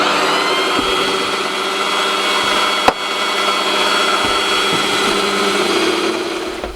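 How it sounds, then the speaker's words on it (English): A power drill runs with a steady, loud whine as it bores a 2mm hole through a stainless steel bolt for a cyclekart. A single sharp click stands out midway through, and no one speaks. "having got the bolt hole drilled through the bolt"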